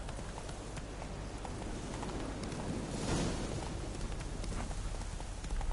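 Horse hooves clip-clop at a steady riding pace in The Witcher 3, a close, continuous patter over ambient noise that swells slightly midway, with no voices.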